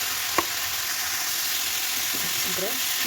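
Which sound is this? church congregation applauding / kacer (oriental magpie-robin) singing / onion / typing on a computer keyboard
onion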